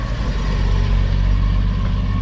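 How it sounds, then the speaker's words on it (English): A classic coupe at a British Motor Museum show of BMC and Leyland cars rumbles close by, its deep, steady engine note loud and continuous with no talk over it. "I'm trying to capture that car coming past again,"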